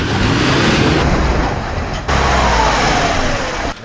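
A 4-cylinder 79 Series 4WD on 35-inch tyres revs hard while backing up in mud off-road, a loud, sustained engine roar with abrupt shifts in tone, close and without talk.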